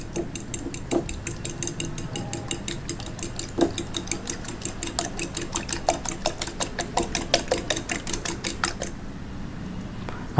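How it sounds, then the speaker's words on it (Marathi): Three eggs and salt are beaten in a bowl with quick rhythmic whisk strokes that clink and tick against the bowl in a fast steady series, close up, ending just before the clip stops. "त्याच्यामध्ये थोडंसं मीठ टाकायचं आहे आणि त्याला छान रीतीने फेटून घ्यायचं आहे"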